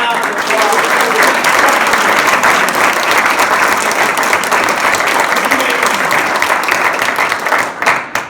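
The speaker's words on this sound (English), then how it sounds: "let's give these guys a big round of applause" Dense, loud applause from a luncheon audience at a Teacher of the Year event, continuous and steady throughout before tapering at the end.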